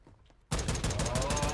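Shotgun fire in the Modern Warfare 2 beta, loud rapid blasts starting abruptly after a moment of quiet game sound and repeating in a steady burst.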